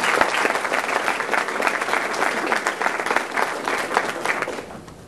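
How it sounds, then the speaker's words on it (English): Audience at a university convocation clapping, a dense, sustained round of applause that stays loud and then tapers slightly at the end. "I think you should give ourselves a round of applause"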